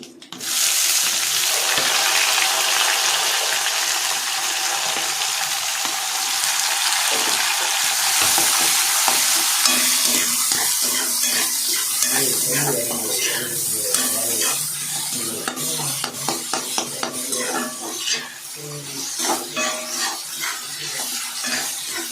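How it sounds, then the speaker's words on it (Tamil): Onions frying in hot oil with curry leaves for muttai sadam (egg rice), a loud dense sizzle at first that settles into rhythmic spoon scraping and stirring against the pan toward the end, no talking. "இப்போ வெங்காயம் போட்டுக்கலாம்."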